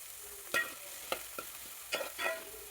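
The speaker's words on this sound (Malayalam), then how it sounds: "ഇതെല്ലാം വാടി വരുന്നത് വരെ വഴറ്റാം." Onions and curry leaves sauté in a pan for Kerala-style egg curry, a soft sizzle punctuated by several sharp, irregular spatula scrapes and stirs, close by with no voices.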